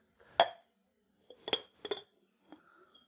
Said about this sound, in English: when you pop the lid off, it has a pretty big overlap